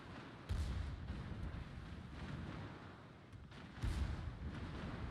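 Heavy naval gunfire from the battleship Kremlin firing at Malta in a naval combat video game, two deep booming salvos about three seconds apart over a steady rumbling background.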